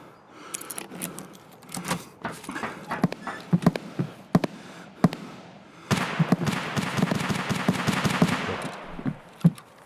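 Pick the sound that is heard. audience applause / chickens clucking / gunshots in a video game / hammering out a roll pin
gunshots in a video game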